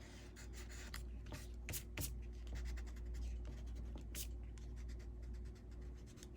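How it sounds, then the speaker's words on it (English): A pencil eraser rubs pencil marks off a dry watercolor paper tag, giving continuous soft scratchy friction with brief sharper strokes, close and fairly quiet against a low steady hum. "I'm gonna take off some of the pencil marks."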